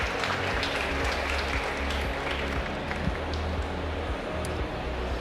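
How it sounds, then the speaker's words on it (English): Steady, dense audience applause at a startup summit's corner stage, a continuous wash of many hands clapping at moderate level from a crowd, with no voices standing out. "A round of applause for Justin Hansky, please"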